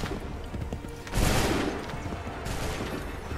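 A massed musket volley fires on command in Assassin's Creed III, a loud rolling burst of overlapping shots that swells suddenly and then trails into crackling echoes and scattered distant reports.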